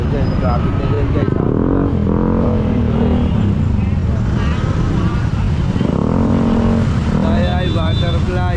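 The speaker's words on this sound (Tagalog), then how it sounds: "Ayan o, dyan, traffic na dyan guys." Dense traffic on a Tondo street, loud and close: motorcycles and cars revving and accelerating over a constant engine drone, with crowd chatter mixed in throughout.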